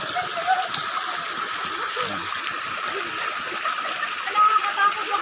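Waterfall number 4 on a river with many falls, heard as a constant hissing rush of falling water, with a voice briefly audible over it.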